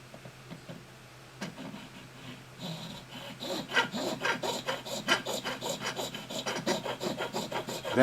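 A nut file working a string slot into a bone guitar nut for a StewMac D35 kit guitar, starting with light scrapes, then settling into fast, steady back-and-forth rasping that grows louder and denser, close up with no talk.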